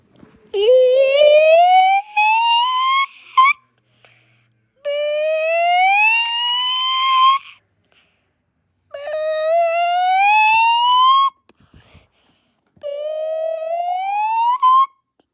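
A voice imitates a siren with four rising wails, each sweeping upward for a couple of seconds, separated by short pauses.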